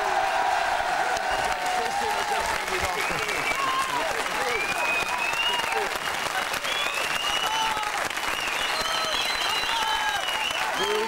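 Steady, dense studio audience applause for Michel Serrault on a French television show, mixed with some cheering, sustained and even at full strength for the whole stretch.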